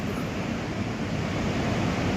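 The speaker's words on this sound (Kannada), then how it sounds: "ಬೋರ್ ಗರೆತದಿಂದ ಹರಿತಿರುವಂತಹ ಈ ಒಂದು ನದಿ" The Kaveri river at Chunchanakatte in Mysore district, in full flood, flows past with a steady, loud broadband roar of rushing water that continues without a break.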